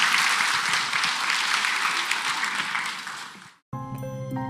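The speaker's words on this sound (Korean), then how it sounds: "다시 한번 뜨거운 박수 한번 부탁드리겠습니다" Ceremony audience marking the 64th anniversary of the Korean War: a loud burst of applause that fades out over about three and a half seconds, then music begins.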